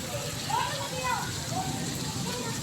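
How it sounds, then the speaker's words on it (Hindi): Steady patter of rain as a continuous hiss, with faint distant voices and short tonal sounds drifting over it. "ये बारिश देख रहे हैं आप"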